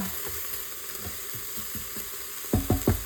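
Ingredients sauté in a pan with jalapeño and onion, a close, continuous hiss of frying, with a few soft stirring knocks and louder thuds of a spatula near the end.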